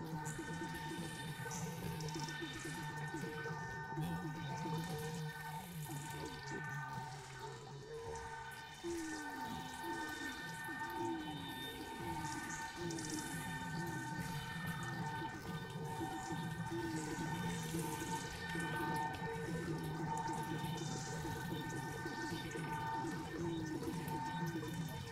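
Watery, bubbling and dripping textures sit inside a live-coded electronic music performance, blended with sustained synth tones and gurgling warbles that run continuously and fairly loud throughout.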